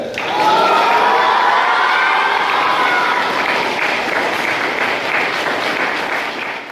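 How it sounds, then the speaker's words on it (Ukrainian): Applause and cheering from a crowd in a hall at a regional karate tournament, a loud, dense wash of clapping with whoops that holds steady throughout and tapers slightly at the end. "Аплодисменти!"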